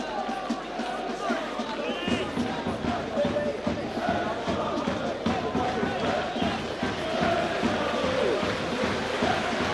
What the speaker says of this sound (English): It's a tremendous round of applause from the Aldershot supporters